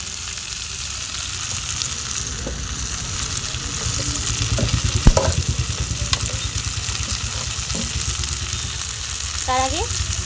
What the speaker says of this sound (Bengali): আমার মশলাটা দিয়ে ফুলকপি আলুটা কষানো হয়ে গেছে।